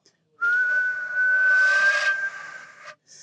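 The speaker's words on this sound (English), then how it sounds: "Just do the whistling." A single sustained whistle, breathy and fairly steady in pitch, held for a couple of seconds before stopping, with a brief restart at the end.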